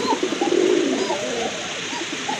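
Pigeons of a quality breeding pair at a bird market cooing in repeated low rolling calls, loud and near at first and then easing into softer coos, with no talk over them.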